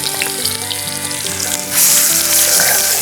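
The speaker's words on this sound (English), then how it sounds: "You can hear that sizzle." Shanks sizzle loudly searing in hot oil in a Dutch oven over a campfire, a dense crackling hiss that swells sharply partway through, close up with no talking.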